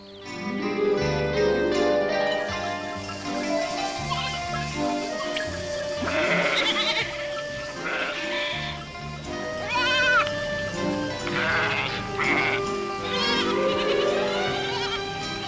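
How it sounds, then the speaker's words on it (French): A chorus of goats bleats over and over in a village, several animals calling at once at close to mid range, with wavering cries rising above a busy background. "Tu as vu toutes ces chèvres?"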